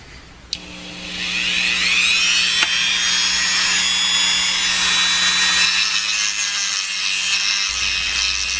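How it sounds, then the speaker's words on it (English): A Dremel rotary tool grinds down a makeshift screwdriver bit to fit a slot. After a click it spins up into a loud, steady high whine with a grinding rasp, runs close and continuously for about seven seconds, then stops abruptly. "I had to Dremel away quite a bit because it was too big to fit into the slot"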